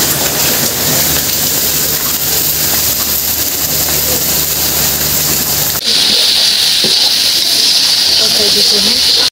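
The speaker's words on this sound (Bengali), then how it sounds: "আর দেখেন কত বাতাস আর বৃষ্টি" Steady wind and rain roar around an outdoor clay-stove cooking area on a rainy day, a broad continuous hiss that swells louder and brighter partway through, with a low hum beneath.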